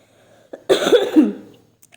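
A single person gives one short, close cough after a brief throat sound, followed by quiet.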